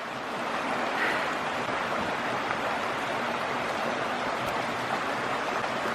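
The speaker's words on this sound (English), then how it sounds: "It's a cool waterfall." Waterfall in Michigan's Upper Peninsula, a steady broadband roar of tumbling water close by, constant and full with no voices over it.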